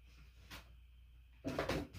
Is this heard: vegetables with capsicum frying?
no